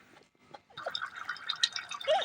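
Katla fish curry with cauliflower and potato simmering in a pot of salted water, giving soft, close bubbling and dripping pops that come in irregular bursts, growing busier after a quiet start, with no talking.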